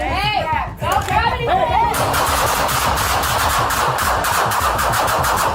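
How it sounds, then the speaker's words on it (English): Someone shouts, then police officers open fire in a rapid burst of loud gunfire, cracking continuously for several seconds over noisy background commotion, recorded by a police dashcam. "pulled a handgun from the bag and officers fired"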